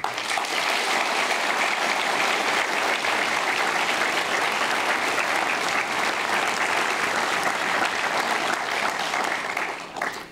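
Sustained, loud applause fills a hall at the SDS party's 36th anniversary ceremonial gathering, a dense, even wash of many hands clapping for about ten seconds before tapering off at the end.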